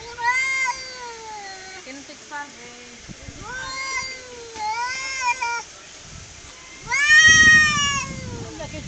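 Cats fighting outdoors, with repeated drawn-out yowls and wails rising and falling between pauses and one loud strained cry near the end, while people chat quietly nearby.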